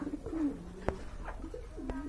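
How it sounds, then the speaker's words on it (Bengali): Australian doves in a pair give soft, low coos, a few separate calls close by against a quiet background with a sharp knock in between. "এখানে কিন্তু একজোড়া ঘুঘু দেখতে পাচ্ছেন অস্ট্রেলিয়ান ঘুঘু"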